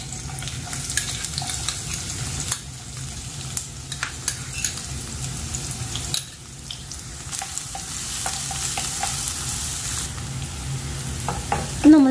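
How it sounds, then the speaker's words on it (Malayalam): Green chillies and shallots sizzling and frying in hot ghee in a pan, a steady close crackle running throughout with occasional stirring clinks and scrapes, no talking. "നമുക്കിതിലേക്ക് പച്ചമുളകും അതുപോലെ ചെറിയുള്ളിയും കൂടെ ചേർത്ത് കൊടുക്കാം."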